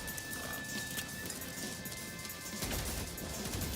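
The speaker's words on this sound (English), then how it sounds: "A robotic horse? What the heck? That sounds amazing." Robotic horse pet walking in No Man's Sky, a steady clip-clop of hooves with a metallic edge that runs throughout and grows louder near the end, set against game music and ambience.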